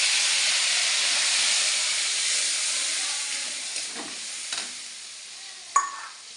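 Onion paste hits hot oil spiced with five-spice seeds and a little sugar, giving a loud, hissing sizzle that gradually fades. A few stirring scrapes and a sharp clatter follow near the end.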